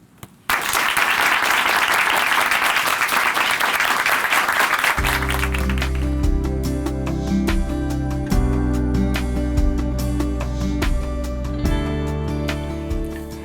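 An audience applauds to welcome a church guest onto a Christian broadcast stage, a burst of dense clapping that fades as music begins and then continues beneath it.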